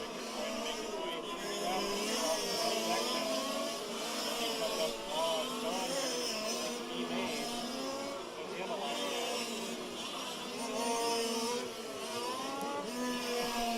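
Several 1/5 scale race cars in the STC main at a 2018 world challenge buzz continuously around a circuit with a left-hand carousel, engines revving up and down in overlapping layers, fairly loud and close.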